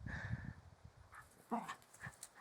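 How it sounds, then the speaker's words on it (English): Dogs whimpering and panting faintly in a quiet room, with soft breathy pants followed by a few brief high whines. "You'll have to forgive my dogs."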